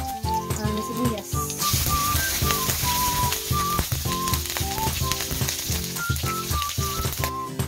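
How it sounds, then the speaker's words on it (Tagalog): Onions sizzle and fry loudly in a hot pan for a Filipino chicken sinigang, a continuous crackling hiss with scattered clinks and faint whistling tones over it. "Lagay ko na yung sibuyas."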